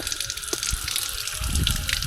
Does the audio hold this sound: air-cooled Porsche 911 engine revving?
no